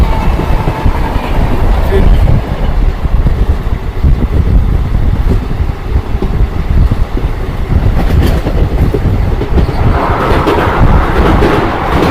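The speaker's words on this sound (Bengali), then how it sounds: "আমাদের ট্রেন এখন ঢুকছে রঙ্গিয়া জংশনে" The Kanchanjunga Express rolls into Rangiya Junction in Assam with a loud, steady rumble of wheels and carriages close by, and a voice speaks over it.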